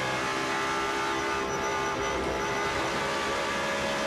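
GT1 race car engine during a Portugal championship race, a loud continuous roar close by with a brief dip as the driver lifts off the throttle before carrying on, no talk over it.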